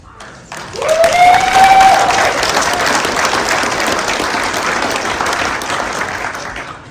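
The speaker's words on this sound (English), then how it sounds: "Thank you for the applause." Sudden loud audience applause at a speech in Libby, Montana breaks out and continues steadily, with a sharp whistle near the start, then slowly eases.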